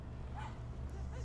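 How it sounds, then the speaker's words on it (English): A dog in the video game Brothers: A Tale of Two Sons gives a short, moderately close bark or yip over a steady low game soundscape, with faint talk in the background. "Yeah, that's a dog."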